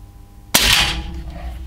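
One sharp, close shot from a Snowpeak PR900S Gen 2 air rifle fitted with a sound moderator, a crisp crack after quiet that trails off in a short fading tail.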